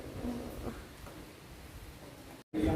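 Steady rain falling on a hillside outdoors, a soft continuous hiss filling the background, broken briefly by a short gap near the end before the sound resumes.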